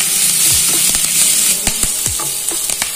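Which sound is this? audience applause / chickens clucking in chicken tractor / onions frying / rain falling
onions frying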